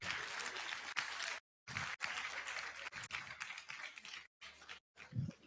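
An audience at a school alumni gathering applauds the principal with a clapping wash that cuts out abruptly several times, sounding faint and distant.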